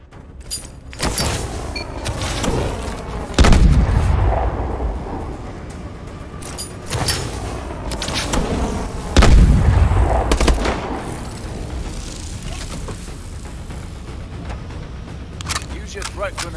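Grenades go off in a Call of Duty Advanced Warfare training exercise, several heavy booming blasts a few seconds apart with rumbling tails, mixed with clicks, gear noise and game sound effects.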